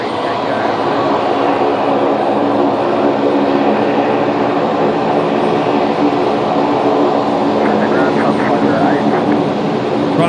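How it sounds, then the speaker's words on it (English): A Qantas jet airliner departs Brisbane for Melbourne, its steady, droning engine roar filling the clip with a hum beneath it, while a voice talks over it. "this is Qantas 635 going down to Melbourne"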